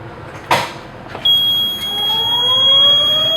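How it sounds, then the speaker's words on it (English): A pull station sets off a fire alarm inside a building: a click and clunk are followed by a loud, continuous high electronic tone with a slowly rising sweep beneath it, close and sustained, with no talk. "Let's go ahead and generate an alarm."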